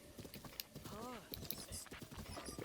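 Horse hooves clip-clop at a steady gallop while riding in the video game The Legend of Zelda: Breath of the Wild, mixed with game sounds and continuous talking over the top.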